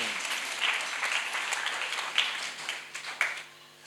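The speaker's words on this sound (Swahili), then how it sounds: "Si mnapiga makofi kidogo ili nipate nguvu na mimi." Congregation at a Sunday church service clapping in a steady, moderately loud burst of applause with no talking, filling the space evenly for several seconds.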